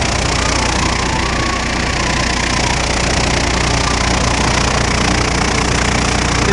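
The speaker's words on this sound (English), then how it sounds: "The juggler right here is to shake down the product. And the axle spinning in there." An axle juggler machine shakes down axle product in a factory, giving a loud, continuous rumbling and vibrating mechanical roar with no break.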